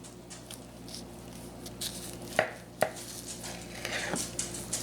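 Baked potatoes being sliced in half with a knife on a board, two distinct crisp cuts thudding through the skin amid quieter handling noises, close and fairly soft.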